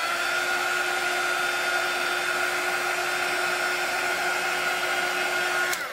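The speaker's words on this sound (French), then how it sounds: "je vais remettre un petit coup de heat gun juste sur le dessus" A heat gun blows a steady, loud whoosh over the top of a foam embellishment flower, a continuous even roar with a faint high whine that cuts off abruptly near the end.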